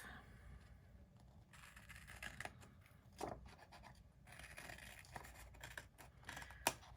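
Scissors snip through a planner sticker sheet with faint, close, quiet cuts and light rustling of paper, several short snips spread over a few seconds.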